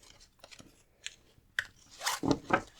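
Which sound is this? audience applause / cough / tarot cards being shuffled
tarot cards being shuffled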